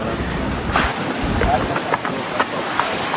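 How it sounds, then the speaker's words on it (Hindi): Strong wind buffets the microphone outdoors at a house preparing for a wedding, a steady rushing roar throughout with low rumbling gusts, while voices talk in the background. "अभी हवा बहुत तेज चल रही है"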